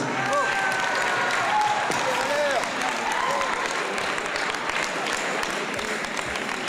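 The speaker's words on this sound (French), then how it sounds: "je crois qu'on peut véritablement les applaudir, leur faire une ovation" A crowd applauds and gives an ovation to a pair of ice dancers, sustained dense clapping throughout, with whistling or cheering and voices mixed in.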